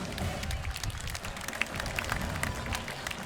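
A parade crowd along the street at an Armed Forces Day parade in Torrance, California applauds the Montfort Point Marine Association, a soft, scattered patter of clapping from a distance with faint crowd murmur.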